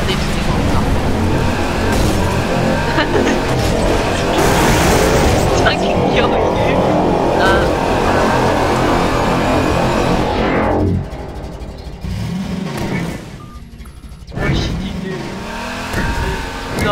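A car engine in Garry's Mod drones and revs loud and close for a long stretch, with tire noise, then drops away in a lull before resurging; voices talk over it.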